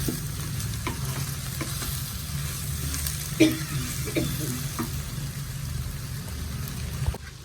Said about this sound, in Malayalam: അരമുറി തേങ്ങ അടുത്ത അടുത്തിൽ വെച്ചിട്ടുണ്ട് ഒന്ന് വറുത്തെടുക്കാം